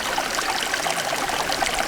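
Constantly flowing mountain stream on a snow trek near Bhrigu Lake in Manali, Himachal Pradesh, a close, bright babble and trickle of water running steadily with no talking.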